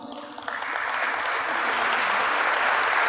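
A gathered audience at a family gathering breaks into applause, dense clapping that starts moderate and swells steadily louder over three seconds, close and continuous without talk.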